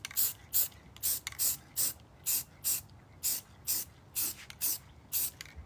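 Short bursts of spray paint hiss onto spice jar lids in a regular rhythm, about a dozen quick pulses with brief pauses between, close and fairly soft.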